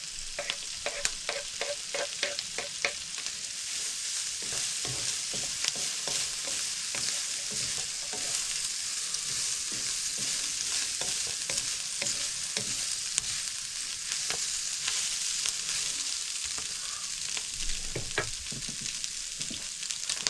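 Vegetables, beef and garlic fry together in a pan for chilli, a continuous bright sizzle broken by frequent rapid spatula scrapes and stirring clicks, close up and steady throughout with no talking.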